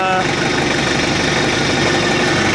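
A tractor engine idles close by, a continuous, even chugging drone with a slight knocking texture that stays at a constant level throughout.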